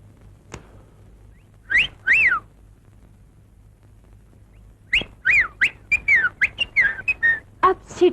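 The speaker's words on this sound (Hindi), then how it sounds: "आप सीटी बहुत अच्छी बजाते हैं।" A person whistles a short tune alone in a quiet room, two brief phrases and then a longer run of clear, bright notes.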